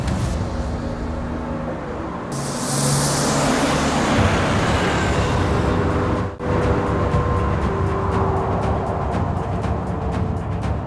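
A car is being driven, with continuous loud road and engine noise that swells and then stays steady. A brief dip comes near the middle, with no talking.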